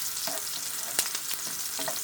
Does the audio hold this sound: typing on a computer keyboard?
no